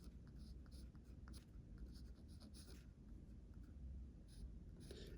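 Pen or pencil writing out a simultaneous equation by hand for a GCSE maths lesson, a steady faint scratching that runs continuously under a low room hiss, with no talking.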